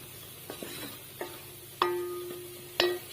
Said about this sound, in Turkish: Evet unumu domatesi, şey, salçalarımı da ilave ettim. Onların kokusu çıkıncaya kadar kavuruyorum.